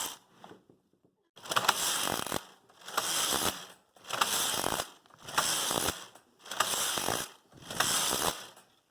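A Brother KH970 knitting machine runs thread lace rows in a Fair Isle variant setting, the carriage sweeping back and forth in six loud, evenly spaced rattling passes with brief pauses between them.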